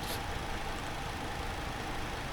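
Boeing 737 jet engines at derated, reduced thrust in X-Plane 11, a steady broadband roar with a low rumble, held evenly throughout without any talk.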